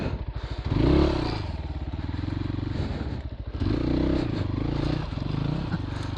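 A Christini all-wheel-drive 250cc dirt bike rides a freshly cut single track in the woods. The engine drones up close, rising and falling with the throttle, with clattering and scraping from the rough trail.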